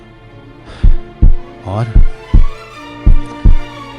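Deep, booming heartbeat effect used in a horror story narration: a steady series of about seven heavy thumps, with a brief spoken word in between.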